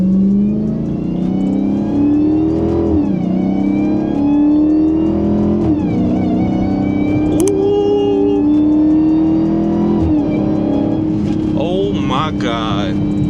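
A Dodge Charger Hellcat driven on a road in Germany, its engine revving up and down repeatedly with a loud rising supercharger whine, heard from inside the car with occasional talk.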